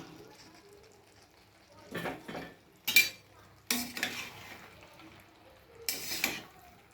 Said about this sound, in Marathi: आता नूडल्स टाकून देते मी.